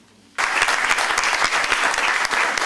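An audience at a talk in Peru bursts into loud, sustained applause that starts abruptly and continues steadily, with dense clapping and a bit of crowd noise.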